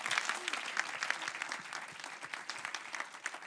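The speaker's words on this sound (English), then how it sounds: "big round of applause" Applause from the crowd at a startup pitch night, dense and fairly close, with many hands clapping in a slightly uneven, rippling texture that carries on without a break.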